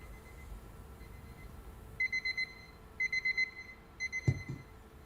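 An alarm clock rings in short, rapid bursts of bright electronic beeps inside a vacuum chamber, groups of three or four pulses repeating each second over a low steady hum, with a brief clunk near the end.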